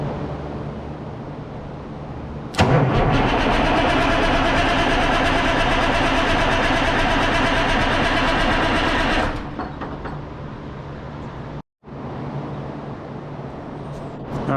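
An old Diamond T cabover truck's engine turns over with a steady, loud, mechanical whirr for about seven seconds, then drops off to a quieter background hum, without talking.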